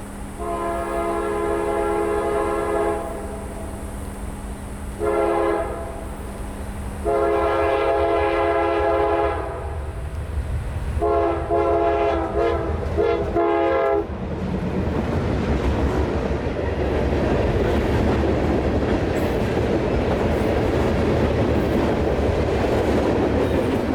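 Local freight train L738, led by Dash 8 number 7776 and Dash 9 number 9039, sounds loud, layered horn blasts in several long and short calls, then the rumbling roar of the approaching locomotives and cars takes over, with no talk.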